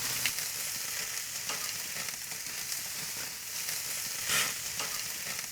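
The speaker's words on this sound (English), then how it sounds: "So once the chops are browned on the bottom, turn them over." Chops frying in a pan with butter give a dense, steady sizzle close up, with light spatter crackles and occasional stirring movements throughout.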